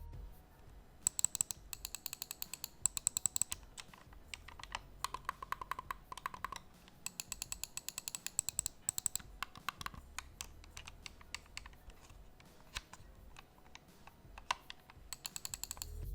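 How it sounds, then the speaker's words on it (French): Extra buttons on a Razer Raiju Ultimate wireless PS4 controller clicked in quick, irregular bursts, with sharp close-up clicks spread across the whole stretch and no talking. "on a également un petit retour sonore sur ces 2 boutons additionnels"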